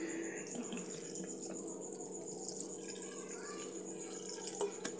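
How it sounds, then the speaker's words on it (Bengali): Cold water pours steadily from a tap over drained pasta sitting in a strainer basket, making a continuous close splashing hiss with a few faint clinks and drips. "সব পাস্তাটাই ছেঁকে নিলাম, তবে এবারে এতে একটু ঠান্ডা জল দিয়ে দিতে হবে।"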